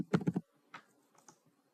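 Quick keystrokes on a computer keyboard, a cluster of three or four clicks followed by a few softer, sparser taps, close and quiet with no talk.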